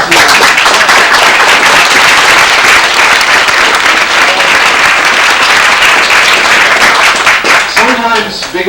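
An audience at the 1989 West Concord Depot opening celebration gives loud, sustained applause, a dense wash of clapping that holds steady before tapering off near the end.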